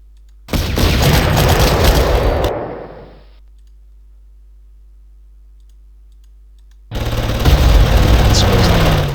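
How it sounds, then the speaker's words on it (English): Artillery fire in the Panzer Corps war game: two loud bursts of booming, crackling blasts separated by a stretch of near silence, with no voices. "Artillery."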